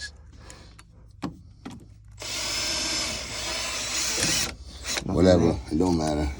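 A cordless drill drives into wood during a hot water heater install, one loud sustained whir in the middle, with voices talking before and after it.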